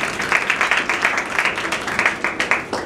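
An audience at a gospel message claps together, a dense steady round of applause that rises and falls in short bursts and is heard alone.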